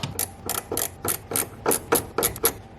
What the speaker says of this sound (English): so remove that bolt and the shaft should be loose